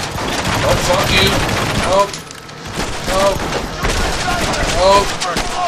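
Gunfire from a weapon in the Bourne Conspiracy video game: repeated rapid shot bursts at fairly loud level, pausing briefly around the middle before resuming, with a voice speaking over parts of it.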